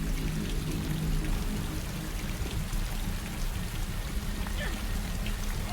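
Steady, dense rain pours in a video game setting, a continuous hiss of drops falling on surfaces that stays loud and even throughout.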